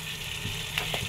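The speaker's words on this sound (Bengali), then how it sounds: "এই যে রোস্ট রান্না হচ্ছে, ওই যে চিকেন ভাজা হয়েছে" Chicken roast cooking in a pan for a home meal, a soft steady sizzle of frying with faint stirring clinks, quiet and close.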